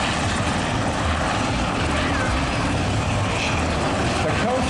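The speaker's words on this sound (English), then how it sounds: "The Coast Guard HH-60 will demonstrate how it performs its search and rescue duties." A Coast Guard HH-60 helicopter flies at a beach oceanfront air show during a search and rescue demonstration, its loud, steady rotor and engine roar filling the whole stretch.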